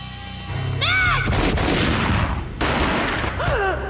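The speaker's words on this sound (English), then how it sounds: "A gunshot boomed and she fell down in slow motion." Gunfire in the video game Max Payne: a heavy, booming shot bursts out loud and close, holding amid dense crackle, with a second blast following and a bright metallic whine sweeping in at the edges.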